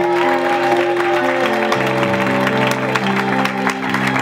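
A congregation applauds and cheers at a birthday celebration, sustained clapping that fills the room steadily, with sung or held tones running underneath.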